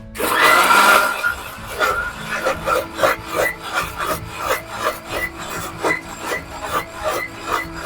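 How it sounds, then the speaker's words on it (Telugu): A mixer grinder runs loud and close, blending mango with half a cup of milk into a milkshake, its grinding roar pulsing in steady, rapid bursts throughout with no talking. "ఇప్పుడు మనం మిక్సీ పట్టుకుందాము"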